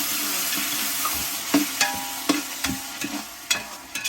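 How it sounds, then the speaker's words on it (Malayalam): Blended tomato paste is stirred in a frying pan, a steady sizzle broken by a series of scraping utensil strokes against the pan at an uneven rhythm, close up with no talk. "തക്കാളി ഇട്ടൊന്ന് ഇളക്കി"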